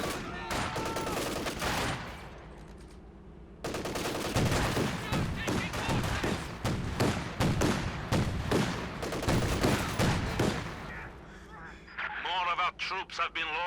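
Rapid bursts of Flak Panzer anti-aircraft cannon fire in Company of Heroes 2, firing at longer range, a dense rattling fusillade with brief gaps, loud and close, while someone talks over it.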